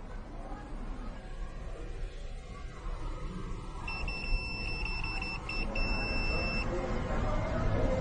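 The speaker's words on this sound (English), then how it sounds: "it will continuously sound the alarm to alert you that there is a tracker on the vehicle" A K68 tracker detector sounding its alarm inside a vehicle: a faint, thin electronic beeping that pulses in short repeated bursts partway through, over a quiet background hum.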